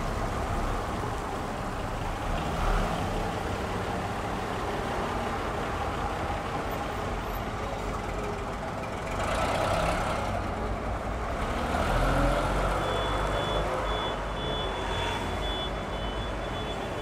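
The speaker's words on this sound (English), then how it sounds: "We then took a ride to Kilwick and back aboard this East Lancs bodied London and Country Leyland National." Onboard an East Lancs-bodied London and Country Leyland National bus, the diesel engine drones and rumbles steadily through a long run, with swells as the bus pulls and a faint high whine near the end.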